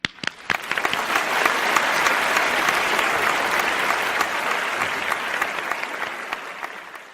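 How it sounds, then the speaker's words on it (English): Sustained applause from a conference audience after a climate change talk, starting with a few sharp claps and swelling into a steady, dense roar of clapping that fades slightly toward the end. "Let's give him another round of applause"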